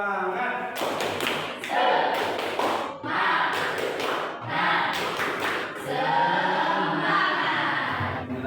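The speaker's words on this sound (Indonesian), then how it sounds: "Coba tepuk semangat." Students in a classroom perform a rhythmic spirit clap, sharp bursts of clapping arriving in quick clustered groups, with voices chanting and calling along underneath throughout.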